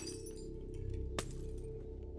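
Window glass smashed in Cataclysm: Dark Days Ahead, heard as a single sharp crash of breaking glass over a steady game background hum.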